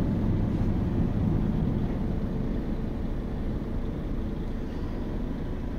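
Steady loud low rumble and roar inside the cab of an Iveco X-Way 480 hp truck while driving with the windows closed, a constant engine and road drone with no talking.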